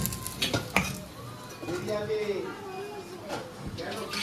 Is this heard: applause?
no